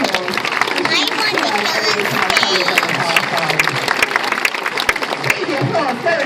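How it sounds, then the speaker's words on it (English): Steady audience applause at a sea lion show in a safari park, continuous clapping from a crowd with a presenter's voice carrying over it. "So can everyone give her a fantastic round of applause?"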